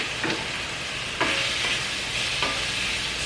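Onions and garlic frying in a pan for Caribbean-style quinoa and beans, a continuous close sizzle broken by three scraping strokes of a spoon stirring them, with no talking.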